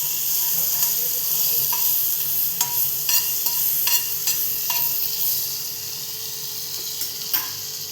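A burger bun for a homemade aloo tikki veg burger warms in a pan, with a steady soft sizzle broken by several sharp clicks and scrapes, fading a little toward the end.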